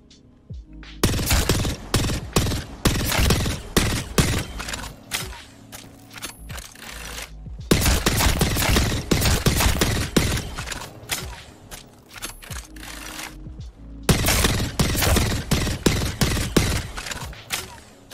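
Rapid bursts of video game gunfire from a weapon on a firing range, shooting downward from a platform, in three long dense volleys separated by short pauses, loud and close with no talk.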